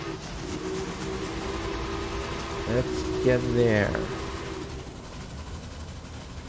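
A locomotive whistle in a Railway Empire train scene gives a sliding, wavering toot over a steady low rumble of a train getting under way, with someone talking over it.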